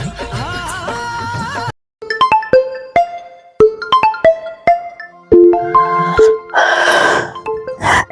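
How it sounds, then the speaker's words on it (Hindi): A phone ringtone plays a bright, plinking melody of chiming notes, loud and close, after a brief burst of other sound at the start. "सुनो, अपने पड़ोस के शर्मा जी का फोन आ रहा है।"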